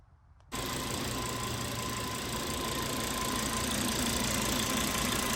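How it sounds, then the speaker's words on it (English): An engine starts up abruptly and settles into a steady, even idle with a low mechanical hum close by. "Well, the engine is just purring."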